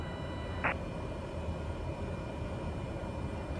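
A Cessna 208B Grand Caravan EX taxiing in Microsoft Flight Simulator, heard as a steady, even engine drone with one brief chirp near the start and no voices.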